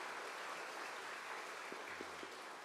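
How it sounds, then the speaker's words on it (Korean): Church congregation applauding the choir during a Sunday service, a faint, even wash of many hands clapping from a distance, with a few low tonal sounds near the end. "우리 박수 한번 하십시다."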